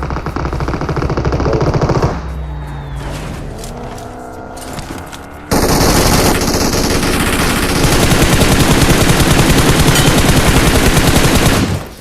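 Gunfire in PUBG Mobile: loud, sustained automatic fire in dense rapid bursts, then a brief quieter pause with engine-like hum, then intense continuous shooting that runs almost to the end.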